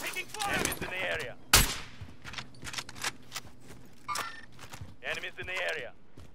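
Sharp video game gunshots: one loud close crack, then scattered lighter shots and impacts, mixed with in-game voice callouts.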